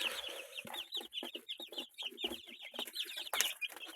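A hen clucks close by among her young chicks in a small home flock, giving a rapid, irregular run of short clucks that is mixed with the thin, high peeping of the chicks.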